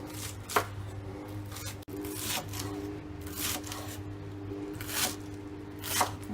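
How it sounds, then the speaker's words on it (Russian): A knife chopping fresh herbs, green onion and tarragon, on a board, with a few distinct soft chops spaced out over a steady background hum, fairly quiet and close. "Нарезаем зелень."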